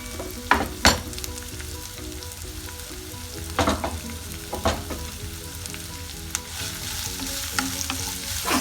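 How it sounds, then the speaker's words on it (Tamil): Onion, green chili and tomato sautéing in hot oil for a Tamil tuna dish, a steady close sizzle with a few sharp stirring clatters from a utensil against the pan, no talking. "ஆட் பண்ணிட்டு நல்லா வதக்கிக்கணும்"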